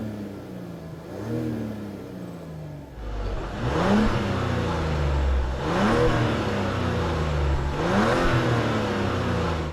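A 2023 Mazda CX-60 inline-six engine revs in three rising-and-falling bursts after a steady idle, close and fairly loud, with a smooth, even tone and no talking.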